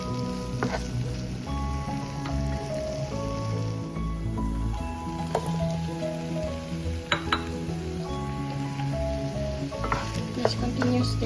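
Bitter melon (ampalaya) frying in a pan and being stirred, giving a steady close sizzle with occasional scrapes, over background music.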